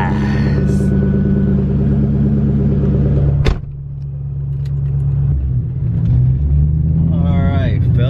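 A Cobra car's engine runs close and loud with a deep, steady rumble, briefly dipping before the revs climb and waver toward the end.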